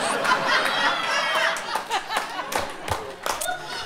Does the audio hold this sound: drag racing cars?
no